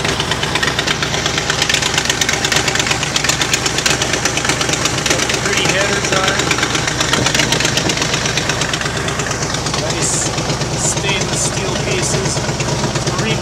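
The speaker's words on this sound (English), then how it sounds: "Here we have Chevy small block 400." A Chevy small block 400 V8 in a motorhome runs steadily and loudly up close, a constant rumbling idle with a rapid ticking knock throughout, while someone talks over it.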